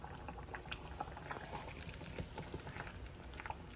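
Pot of dal simmering and boiling on the stove, a soft, steady bubbling and popping patter heard close but quiet, with no voices over it.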